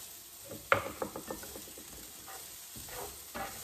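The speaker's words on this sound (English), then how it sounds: "So we're gonna just go ahead and saute this for about 2 minutes until it's kind of al dente." Spiralized regular and Japanese sweet potato sautés in a pan with a soft, faint sizzle, punctuated by a quick run of light clicking, rattling stirs near the start and a few scattered scrapes afterwards.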